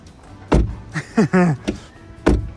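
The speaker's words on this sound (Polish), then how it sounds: "posłuchajcie, jak drzwi się w tym samochodzie zamykają." A BMW X3 M50 car door shuts twice with solid, muffled thunks, separated by a brief stretch of voice between them.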